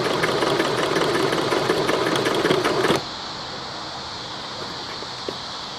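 A Dressmaker sewing machine with loosened thread tension runs a zig-zag stitch, giving a fast, steady mechanical chatter close up for about three seconds before stopping abruptly into quiet.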